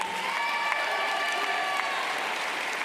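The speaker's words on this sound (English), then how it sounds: "Clap it up for them, y'all" A high school graduation crowd claps and cheers in a thick, continuous roar of applause that stays at an even level throughout, with no talking standing out above it.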